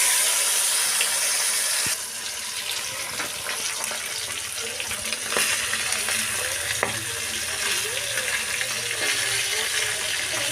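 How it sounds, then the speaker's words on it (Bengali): Thick belly pieces of kalbasu fish frying in oil, a dense, constant close sizzle with scattered crackles and occasional faint clinks, steady throughout with no speech. "এখন মাছের পেটিগুলো ভেজে নেব পেটি ভাজতে একটু সময় লাগে"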